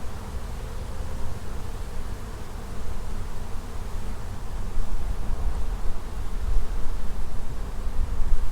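Honeybee drones and workers buzzing around an open beehive during an inspection, a steady close, dense hum that swells slightly louder toward the end, with no talking.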